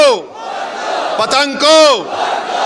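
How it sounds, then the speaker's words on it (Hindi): A political rally crowd roars a slogan in reply to the Nara-e-Takbir call, two or three loud, drawn-out massed shouts rising and falling in pitch. "मेरे साथ नारा लगाइए, नारे तकबीर, नारे तकबीर, पतंग को"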